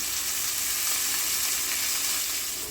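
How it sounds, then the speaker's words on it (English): Chopped vegetables browning in a pan for a beef ragu, giving a steady, close, hissing sizzle with faint crackles and no voices. "we'll let that go for another 5 to 7 minutes maybe, just to get some nice browning."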